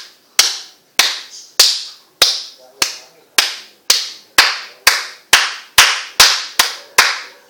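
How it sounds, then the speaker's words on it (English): One person demonstrates loud hand clapping, about a dozen sharp, cracking claps spaced roughly half a second apart, close and very loud with short ringing decays between them. "just clap like that. Okay, clap like this. Then slide it through."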